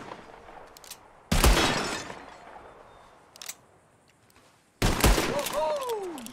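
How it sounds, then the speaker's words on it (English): Two loud, close gunshots in Red Dead Redemption 2, each a sharp blast with a long ringing tail. The second is followed by a bright shatter of a glass bottle, with a faint clatter between the shots. "you shot a bottle"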